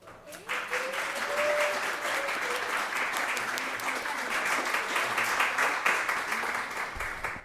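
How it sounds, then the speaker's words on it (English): Applause from an audience at a tribute event for Gustavo Arellano starts abruptly and holds as a dense, even wash of many hands for several seconds, with a faint voice early on. "A round of applause, not for me, but for them."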